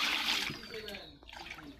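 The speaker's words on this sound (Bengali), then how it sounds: "এদিকে প্রথমে পানি দেওয়া হইতেছে।" Water is poured into a pot to start payesh, a brief splashing trickle close by that fades out partway, with a voice speaking over it.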